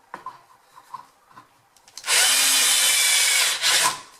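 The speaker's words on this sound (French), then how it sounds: "Il est préférable de percer un peu plus haut." A power drill bores a hole a little high on a wall while an electrical grounding installation is fitted, with a few light taps first and then a loud, steady whirring burst of about two seconds that briefly dips and resumes.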